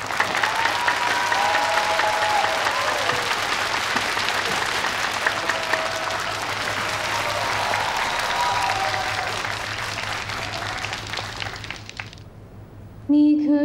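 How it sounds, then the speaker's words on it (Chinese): Audience applause for a singer introduced on stage, sustained crowd clapping that gradually thins and stops, followed by the first notes of music. "掌声有请。"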